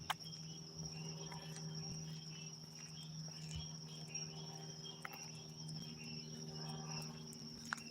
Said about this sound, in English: Yeah, you hear the frogs, right?